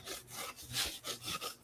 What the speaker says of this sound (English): you do like a sawing motion away from you to get a nice decal edge